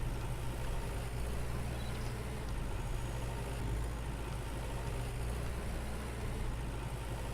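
A tractor engine in the farming game Farmer's Dynasty runs at a steady low idle-like drone, constant and unbroken, close and even in level with no talk over it.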